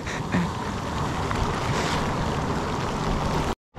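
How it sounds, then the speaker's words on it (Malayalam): Rough sea with crashing waves and gusting wind buffets a small fishing boat, a loud, continuous roar with heavy wind noise on the microphone that cuts out abruptly near the end. "കടല് ഭയങ്കരമായിട്ട് കൂടി തുടങ്ങി നമുക്ക് കുഞ്ഞു വഞ്ചിയിൽ നമുക്ക് കിടക്കാൻ പറ്റാതായി"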